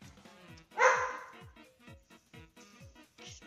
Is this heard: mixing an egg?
no